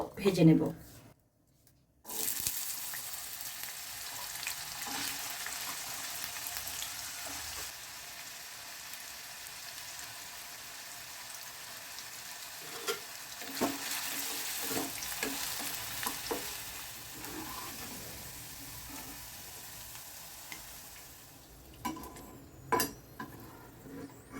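Small diced potatoes fry in white oil with a soft, continuous sizzle, broken by occasional spatula scrapes and knocks against the pan, someone talking intermittently over it.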